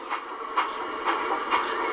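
Train rolling along rails on the West Somerset Railway toward Minehead through open countryside, heard in a train simulator: a steady running hiss with a rhythmic clickety-clack of wheels over rail joints recurring about every half second, continuous and close.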